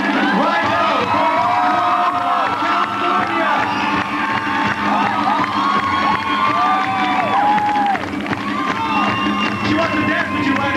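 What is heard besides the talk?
luau audience applauding and cheering a performer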